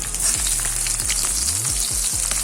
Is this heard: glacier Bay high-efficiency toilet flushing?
no